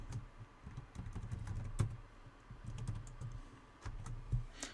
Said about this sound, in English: so we'll go ahead and type our password in